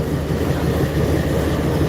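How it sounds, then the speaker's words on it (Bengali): Passenger train standing at Ishwardi railway station while passengers board, heard as a dense low rumbling drone of engine and carriages, steady and close for a couple of seconds with no talking. "এই ট্রেনটি আর কিছুক্ষণের মধ্যেই ঈশ্বরদীর থেকে খুলনার উদ্দেশ্যে রওনা দেবে"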